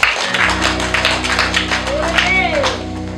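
A church congregation claps together, a rhythmic run of hand claps going on under a loud voice addressing them.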